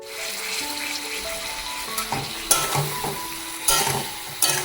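Potatoes sautéed with masala in a pan, a steady close sizzle with loud scraping stirs and spatula knocks arriving in bursts toward the end.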